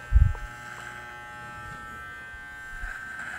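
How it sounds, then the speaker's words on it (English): Electric hair clippers fitted with a number 3 guard buzz steadily through a men's haircut, a close, even drone with a brief louder contact at the start. "The clipper gradually comes off the head."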